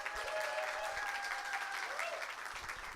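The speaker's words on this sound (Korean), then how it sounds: "큰 박수 부탁드립니다." An audience at a sales seminar applauds to welcome a company representative to the stage, with steady, dense clapping running for about three seconds and a faint tonal line underneath.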